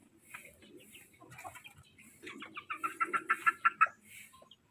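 Young chicks kept in a coop, now about a month old, peeping and clucking nearby, with a rapid run of sharp repeated chirps in the second half.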